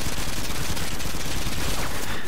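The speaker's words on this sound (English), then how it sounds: "I just wasted an entire magazine then trying to shoot it because I'm not running the full metal jacket" Rifle magazine emptied at a wall in Call of Duty Modern Warfare 2 on the Favela map, a dense, continuous burst of automatic gunfire running the full length without pause.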